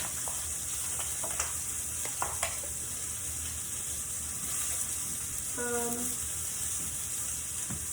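A steak sizzles in a pan during a cooking demo, a steady bright hiss that runs without a break, with a few small clinks and a brief tonal sound partway through.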